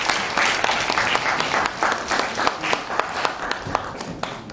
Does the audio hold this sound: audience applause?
yes